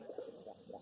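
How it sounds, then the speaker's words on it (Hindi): Male pigeons cooing close by in a loft, soft repeated throaty coos rising and falling across the short moment with no talk over them. "बहुत ही गजब कबूतर, नर बहुत ही ज़बरदस्त।"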